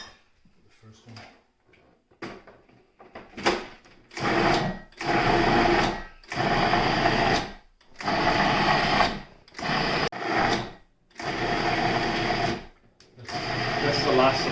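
A food processor grinds chickpeas and fava beans for falafel in repeated loud whirring bursts of a few seconds each, separated by short pauses.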